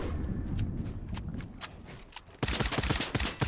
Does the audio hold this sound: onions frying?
no